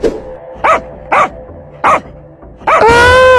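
A fierce cartoon dog barks four times at an even pace, each bark short and loud, followed by a sustained high whining yelp at the end.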